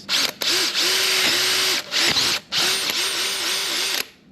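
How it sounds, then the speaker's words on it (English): A power drill bores a hole into a meat bone in several loud, close bursts of high whirring, the motor dipping under load between short pauses. "I'm gonna drill a hole into the bone"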